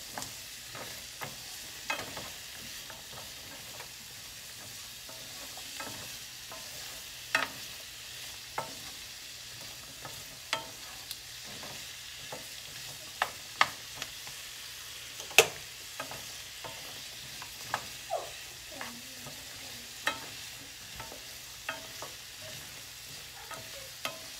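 Vegetables frying in a pan for a vegan stir fry, soft steady sizzle under scattered clicks and scrapes of stirring, fairly quiet and close, with no talking.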